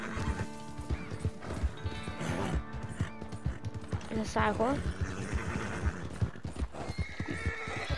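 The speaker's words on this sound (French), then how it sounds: "C'est un cheval qui va plus vite que le mien." Horse neighing and clip-clopping hooves in a hunting video game, with a mount faster than the player's own, the whinny rising mid-clip over steady hoofbeats and game music while someone talks.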